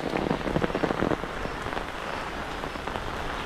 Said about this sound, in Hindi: ये बारिश आना शुरू ही हो गई है।